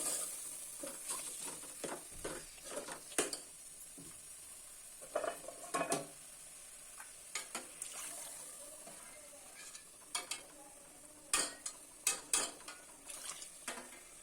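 Food being stirred in a pot over a wood fire, with repeated scraping and clinking strokes of a spoon against the pot at an irregular pace, close and fairly quiet over a faint background hiss.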